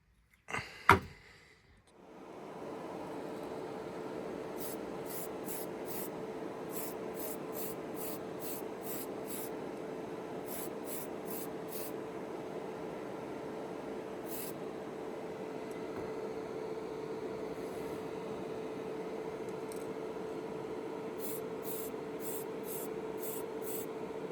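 A steady airbrush or spray-can hiss as clear coat is sprayed onto a painted 1:25 Revell 1960 Chevy Impala model car, held continuously for about twenty seconds with rapid clicking bursts above it, after a short sharp knock at the start.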